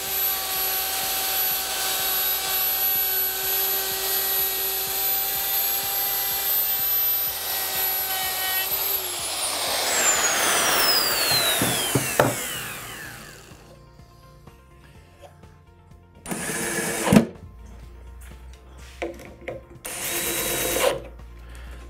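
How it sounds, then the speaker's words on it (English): A handheld router cuts a beveled edge along pallet wood for a wall shelf, a loud high whine that drops in pitch as the motor winds down, followed by short scraping and rubbing bursts. "I'm going to get the router and router a nice little beveled edge all the way along there."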